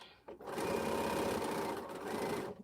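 Close, steady whir of a sewing machine stitching quilt fabric, a continuous motor hum with fast needle clatter that starts and stops briefly at each end.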